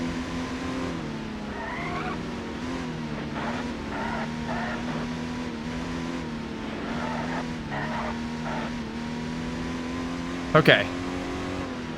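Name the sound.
front-wheel-drive Alfa Romeo race car engine in Alfa Romeo Racing Italiano video game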